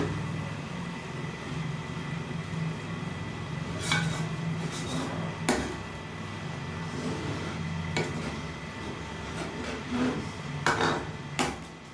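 Cooked lentils being mixed in a pot, with scattered sharp clinks and scrapes of a utensil against the metal over a soft background hum, at irregular intervals.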